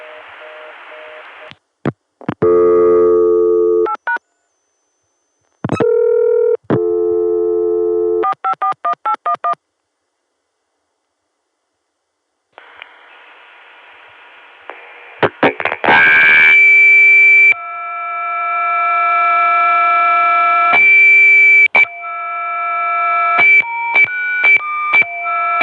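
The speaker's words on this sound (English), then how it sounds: "Starting with the Chicago dial tone via 454." A steady Chicago telephone dial tone on a 1981 ConTelNet CCSA network, then bursts of touch-tone dialing beeps in quick sequence, with further tones and a connection hum; loud and clear, no voices.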